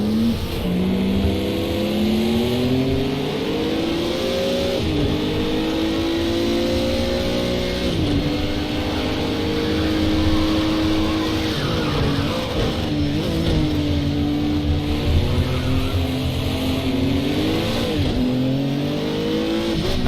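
A race car engine in a racing video game revs and shifts repeatedly, rising whines climbing and dropping with each gear change, steady and loud throughout with occasional tire noise.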